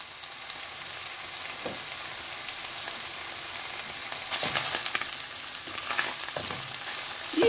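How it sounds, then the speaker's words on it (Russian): Mushrooms sizzle and fry in a wok over high heat, a steady broad hiss with occasional louder stirring bursts, close and alone without speech. "отправляю обжариваться грибы"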